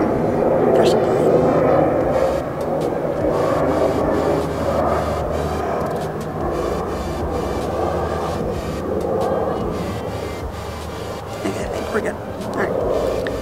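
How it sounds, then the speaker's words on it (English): A fixed-wing airplane passes overhead outdoors, a steady broad roar that holds loud throughout and eases slightly toward the end, with a person talking over it. "There's a plane."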